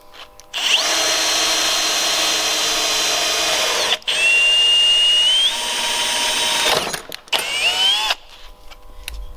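A power drill whirs loudly in long bursts while drilling in a garage during bus work, its pitch rising as it bites in, with brief pauses between runs.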